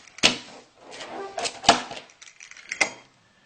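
A cutter crunches through a homemade restaurant-style pizza with a crispy bottom: several sharp, close cuts and crackles come in short bursts with quiet gaps between them.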